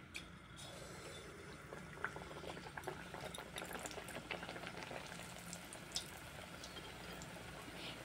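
Battered eggplant fritters (beguni) frying in hot oil in a kadai, a continuous soft sizzle and bubbling with a few sharper pops.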